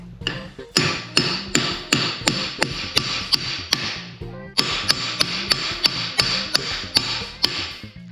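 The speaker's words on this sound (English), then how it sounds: "now we'll get our brass punch and see if we can get this off without too much difficulty" A brass punch is hammered to free the CV joint on a Mercedes axle, giving a close, loud run of sharp metallic strikes at a steady rhythm, a short pause, then another even series of blows.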